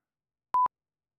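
A single short telephone busy-signal beep, a pure steady tone about a tenth of a second long, clean and moderately loud, isolated in silence after the phone is cut off.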